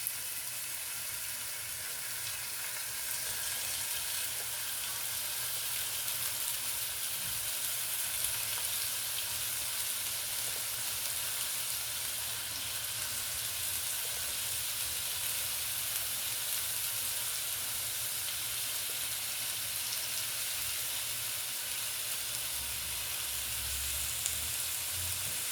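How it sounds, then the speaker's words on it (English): Chicken frying in oil in a pan for low-carb chipotle chicken tacos, a continuous even sizzle that holds steady throughout, close and moderately quiet with no talking. "Here it's sizzling. That's what we want."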